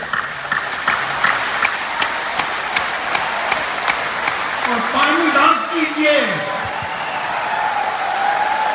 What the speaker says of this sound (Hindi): और जोर जोर से good MC good MC good MC बोलिए, तालियां मारिए जोर जोर से